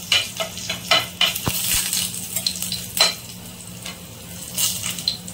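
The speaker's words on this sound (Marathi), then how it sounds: "लसूण जास्त काळा करायचा नाही, गुलाबी रंगावर भाजून घ्यायचा आहे" Garlic and asafoetida roast in a pan with a close, bright sizzle, punctuated by repeated spoon scrapes and light metallic clinks as it is stirred.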